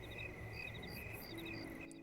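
Crickets chirp at night in The Sims 4 in quick repeating trills against a faint low rumble, steady and unbroken throughout.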